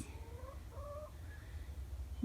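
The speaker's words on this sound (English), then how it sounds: "There's a rooster." Hens in a farm coop give soft, faint clucks and short rising calls in a few quick bursts over a low background rumble, with no talk.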